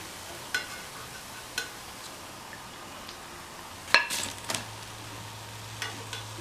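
Medu vada, urad dal fritters, deep frying in hot oil produce a low, steady sizzle with soft bubbling, broken by a few scattered clinks and a louder scraping, stirring clatter around the middle.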